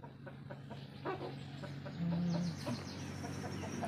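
Chickens in a garden around a house in the morning, clucking in short, scattered calls with one louder sustained cluck near the middle, heard at moderate distance over steady low background hum.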